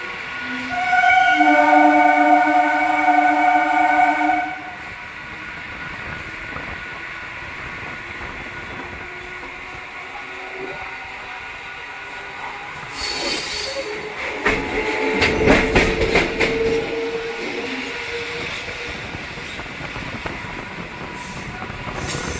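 Etawah–Mathura MEMU train on the move, opening with loud horn-like tonal blasts that fade into a steady rumble of wheels on track, swelling with rattling, clattering rail noise near the end; no talk.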